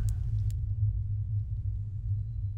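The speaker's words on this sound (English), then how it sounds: "So there's this low rumbling noise, like an air conditioning unit, like right over your head running." Slender: The Arrival ambient soundscape inside a house, a steady low droning rumble like an overhead air-conditioning unit, preceded by a couple of faint clicks at the start.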